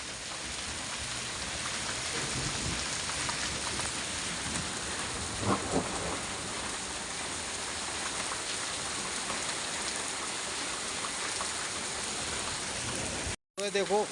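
Hail easing into rain outdoors in a village, a dense continuous hiss of falling ice and raindrops striking surfaces with a few louder patters, steady throughout and cutting off briefly near the end.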